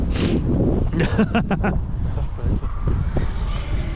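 Wind buffeting a microphone in a constant low roar, with brief muffled rattles and knocks partway through.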